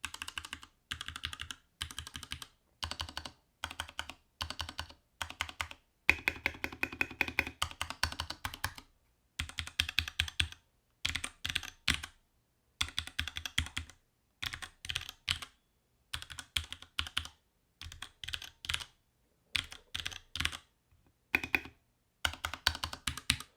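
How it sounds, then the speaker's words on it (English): Bursts of brisk typing on a mechanical gaming keyboard, crisp close keystroke clacks in rapid runs separated by short pauses, with no voices. "when you press down, your keycap goes into it, you feel that quality, that goes right into the sound of this board."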